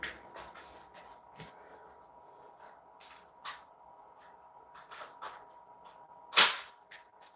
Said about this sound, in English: this thing might be broken because we're getting like 3 squibs